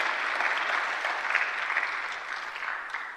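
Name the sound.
church congregation applauding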